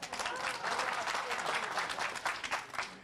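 Audience applause at a Haryana election debate in Jhajjar, a dense, steady clapping crowd sustained for about three seconds with slight swells.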